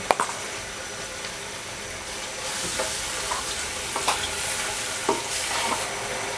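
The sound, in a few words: spice paste being stirred and fried for fish head curry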